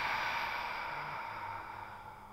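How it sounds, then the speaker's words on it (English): A single long, relaxed exhale through an open mouth during a yoga breathing exercise, breathy and close, tapering off gradually with no talking. "Open mouth, exhale, relax."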